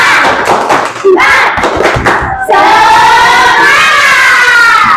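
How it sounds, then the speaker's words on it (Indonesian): A primary school class in Indonesia claps a rhythmic spirit clap together, loud and close, with a burst of group clapping and children's voices, then sustained chanting or singing voices. "Tepuk semangat."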